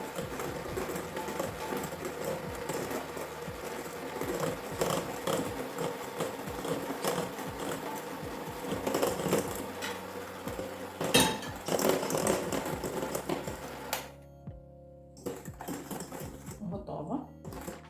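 An electric mixer runs at low speed, blending small cupcake batter as melted, cooled butter goes in. Its busy whirring and rattling sounds under talk, then drops to a quieter, patchier stretch near the end.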